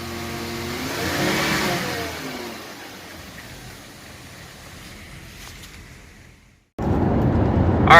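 A 2003 Honda Accord V6 engine running with a rising rev early on, settling to a steady drone, then cutting to a louder, closer engine roar near the end.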